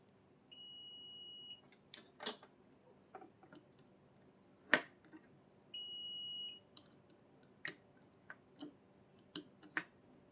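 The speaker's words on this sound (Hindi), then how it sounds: "तो आप लोग समझ सकते हैं बीप दे रहा है।" A multimeter set to buzzer continuity mode beeps during a Canon G2010 power supply repair, giving two sustained high-pitched tones about a second long, separated by quiet gaps with scattered faint clicks and taps nearby.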